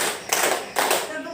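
Sharp hand claps in a positive-discipline classroom clapping game, a couple of crisp, fairly close bursts spaced about half a second apart over a faint background.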